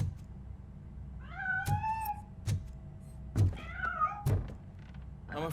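A cat meows in the Robocop: Rogue City video game, two or three rising, plaintive meows close by, alone, punctuated by dull thumps and clunks.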